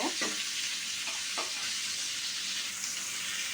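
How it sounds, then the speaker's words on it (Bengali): Rohu fish and spices frying in oil in a pan, a soft continuous sizzle with a few scraping stirs of a spatula near the start, quiet and steady without talk. "এখন আমি সবগুলো উপকরণ ভালোভাবে ভেজে নিব আমি মাছগুলোকে এভাবে উল্টিয়ে দিব"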